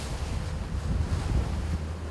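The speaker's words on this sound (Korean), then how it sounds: "파도가 심한 날은 단정을 타는 것도 꽤 위험한 일입니다." Rough sea surf and gusting wind batter the microphone around a small coast guard launch off Pohang, a steady low roar with no voices.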